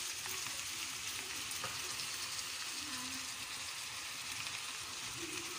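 Grated apple cooks in a pan of melted honey and butter for an apple tart filling, giving a soft continuous bubbling sizzle that stays quiet and even throughout.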